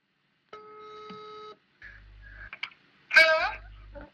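A telephone call being placed near a microphone, with steady tones, short beeps and a ringback pattern, interrupted by a brief burst of other sound before the tones resume.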